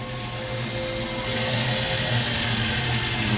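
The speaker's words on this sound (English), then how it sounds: "Right, drill a hole." A drill runs steadily with a continuous whirring whine, boring a hole for a battery tray in the boot of a Ford Escort Mk2 RS2000, close and uninterrupted.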